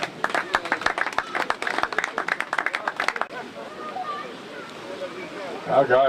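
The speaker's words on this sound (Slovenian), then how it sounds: "Dajmo vsi skupaj, lepo vas prosim, še en glasen aplavz za Ivana Gajića." Audience applause for goalkeeper Ivan Gajić at a Celje handball club season-presentation press conference: a burst of sharp, fairly regular claps for about three seconds, then it fades into murmuring room chatter.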